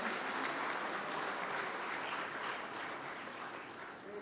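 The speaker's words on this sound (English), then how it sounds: "Can we have a huge round of applause for all the panelists here?" Audience applause for the panelists at the Springer Nature India Research Conclave 2023, a steady, dense clapping that holds throughout and fades a little toward the end.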